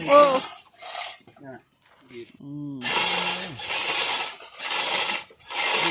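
Cable and pulley gear creaks and clanks while people haul a rice granary along a short distance, with bursts of mechanical rattling and grinding mixed with shouts and talk nearby.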